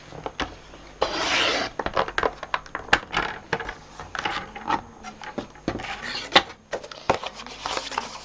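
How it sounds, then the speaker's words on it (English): A small paper trimmer shaves a sliver off a piece of card, giving close, uneven scraping and sliding strokes broken up by sharp clicks and taps. "I'm just going to just shave off a very small amount with my trimmer"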